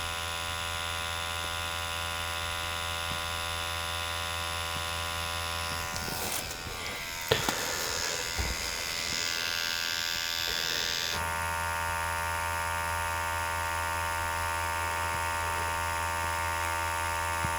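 A tattoo machine buzzes steadily while tattooing real skin, a constant electric drone that briefly roughens and shifts in the middle, then settles back into the same even hum.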